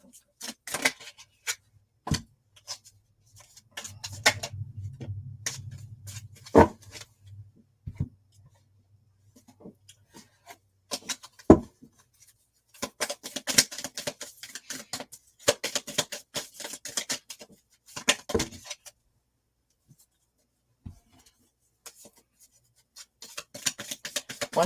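A large tarot deck of about 160 cards being shuffled by hand, giving sparse, sharp card flicks and riffles with pauses between bursts, close and fairly quiet, with no talking.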